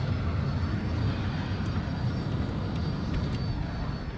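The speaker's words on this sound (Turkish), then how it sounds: "Ama transport helikopteri. Onda yapacağım bir şey yok." A transport helicopter flies in the Battlefield 2042 video game, giving a loud, steady engine and rotor drone with broadband rumble that holds constant throughout.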